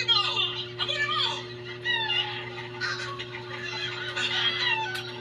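An escaped chicken clucks and squawks in rapid, uneven bursts close by, with steady hum and background voices in an outdoor gamefowl yard.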